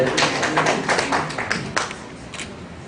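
A small audience claps for a former Sydney 2000 Olympian at an event, with a scattered, uneven burst of hand claps that is close and fairly loud, then thins out toward the end.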